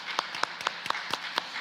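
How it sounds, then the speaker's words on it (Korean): Church congregation welcoming a newlywed couple at a Sunday service, with a few distinct, evenly spaced hand claps close by at a steady rhythm, fairly quiet. "여러분 박수로 뜨겁게 환영해 주시면 감사하겠습니다."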